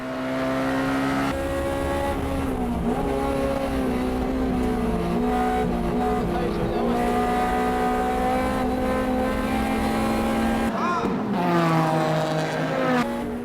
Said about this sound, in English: The 2 S2000s, the Jays Racing and C West, are battling it out.